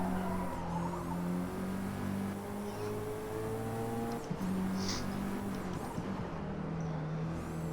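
A racing car engine in the game Forza Motorsport drones steadily, its pitch rising and shifting through gear changes at constant moderate loudness, with no voices.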